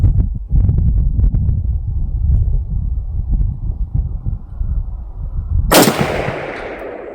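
A 1986 Romanian AKM (PM63) rifle with a NATO-length stock fires a single loud, sharp gunshot outdoors near the end, preceded by several seconds of steady low rumbling background noise.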